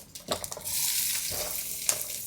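Ginger, garlic and shallots fry in coconut and sesame oil with a steady broadband sizzle, broken by a few stirring scrapes and clinks near the start and end, close up with no talking.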